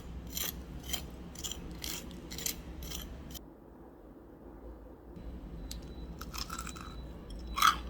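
Crunchy, crispy slow-cooked chicken being bitten and chewed close up, a run of sharp crackling crunches in an irregular rhythm, a short pause, then more crisp bites, with no talking.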